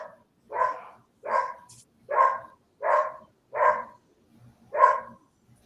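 Six distinct dog barks in a steady rhythm, each a short, fairly close burst separated by brief pauses, with no talk over them.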